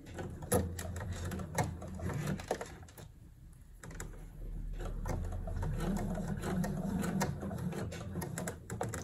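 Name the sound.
sewing machine stitching a small rectangle on a blouse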